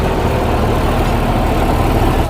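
A tractor engine runs to power a Terrasoli rotavator, giving a steady, close, loud low-pitched rumble at constant idle throughout, with no talking.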